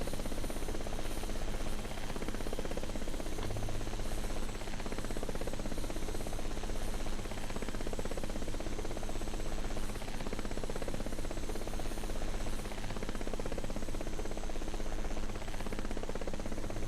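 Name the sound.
Bell 206B helicopter flying in a flight simulator video game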